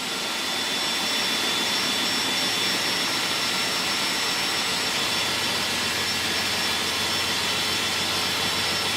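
Continuous loud power drilling into metal on a Can-Am Maverick X3, a dense whirring grind that holds steady from start to finish without pause.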